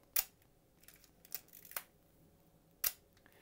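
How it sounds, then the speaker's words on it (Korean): A Leica M2 rangefinder film camera fires its shutter in quiet, crisp clicks: a sharp click near the start, a couple of softer clicks in the middle, and another sharp click near the end, close up with little else around. "셔터가 굉장히 정숙하거든요."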